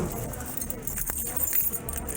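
Keys jingle faintly and intermittently under steady background noise and a voice, in a roadside police encounter during an arrest.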